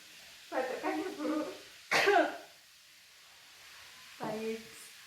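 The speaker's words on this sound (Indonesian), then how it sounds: "Tarik nafas, batukkan ya Bu." A woman patient coughs during an effective-cough breathing exercise, a few rough bursts at close range with pauses between them.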